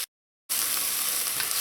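Vegetables sautéing in a pot for a Trinidad breadfruit oil down, a dense steady hiss of frying that starts abruptly after a moment of silence and holds loud and close.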